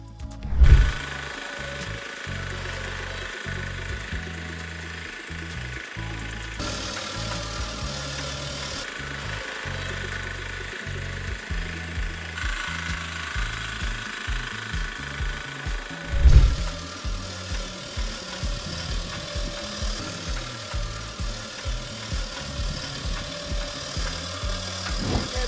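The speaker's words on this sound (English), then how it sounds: "This is a self-propelled electric machine for harvesting asparagus." A homemade self-propelled electric asparagus harvester driven by a Chinese bicycle motor runs with a steady mechanical whir and rhythmic clattering, punctuated by a couple of louder knocks, close and alone without talk.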